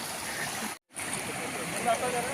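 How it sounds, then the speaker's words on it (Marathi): Mountain spring water runs and gurgles in a steady stream as it is collected near a farm hut, close and continuous apart from a brief silent cutout. "झऱ्याचं पाणी, उत्तम पाणी, झऱ्याचं पाणी घेतोय पार्टीसाठी."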